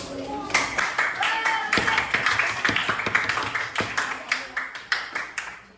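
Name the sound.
clapping hands, applause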